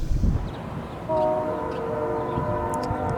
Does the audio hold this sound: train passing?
yes